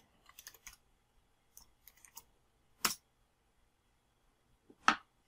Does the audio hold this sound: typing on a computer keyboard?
yes